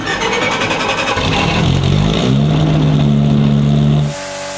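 A 2JZ engine in a Toyota Supra cranks, fires up and revs loudly a few times before settling into a steady idle.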